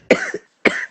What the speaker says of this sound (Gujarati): ઉધરસ તું જે બોલ્યો ને એના ઉપર આવી મને